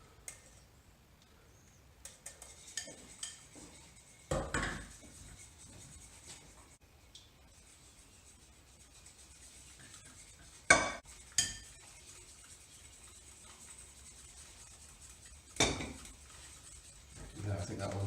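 Eggs benedict sauce is mixed in a bowl, with quiet, scattered clinks and taps of utensil against the bowl and a few sharper knocks, all faint over a hushed kitchen background.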